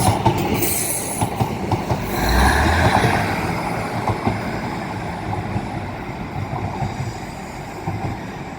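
Train unit 156478 rolls through Manors Station with a rising rumble, rhythmic clickety-clack of wheels over rail joints and a brief squeal, staying loud and close throughout without any speech.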